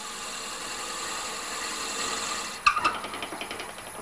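A lathe drills a pen blank with the tailstock quill, a steady motor hum with a high whine, then a sharp catch followed by a run of quick rattling bursts that fade away.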